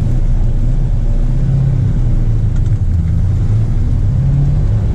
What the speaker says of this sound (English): Little downshift up here for a stop sign.